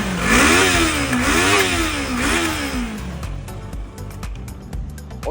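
A Nooma 325cc two-cylinder fuel-injected motorcycle engine revs up and down in a few rising and falling surges close by, then settles back to a rough idle with some clicks and knocks.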